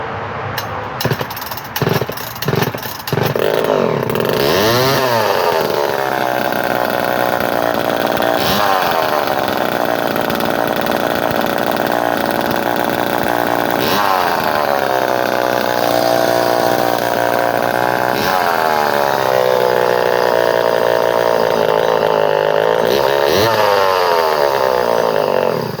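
A Poulan chainsaw with an early 17-inch bar is pulled over a few times, catches, and then runs loud and close, revving up and down repeatedly in long rising and falling whines.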